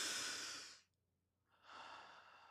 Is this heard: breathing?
yes